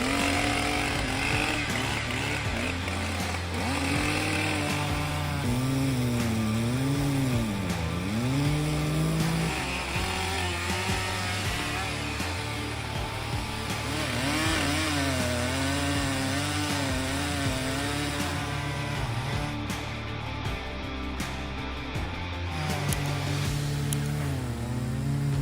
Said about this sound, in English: it's great to see the Stihl MS-881 saw can easily cut a large oak stump